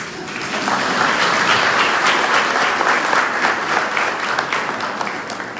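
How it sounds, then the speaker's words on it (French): Sustained applause from a church congregation of older parishioners at a Sunday Mass, a dense even wash of many hands clapping together, fairly loud and steady throughout with no talking over it. "Nous, les anciens, on va s'applaudir."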